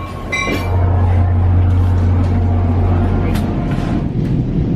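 A commuter rail train pulls out of Port Jervis station, heard from on board as a loud, steady low rumble and hum with some rattling, and a few brief voices over it.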